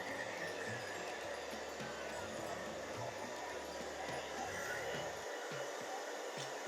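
Hair dryer blowing steadily to dry a short pixie haircut, a close, continuous whooshing roar for the whole stretch.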